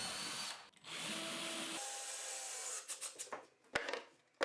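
Power drill driving screws into melamine board pieces for an open wardrobe, two close bursts of whining motor with a pitch shift, then scraping and knocking of board as pieces are handled.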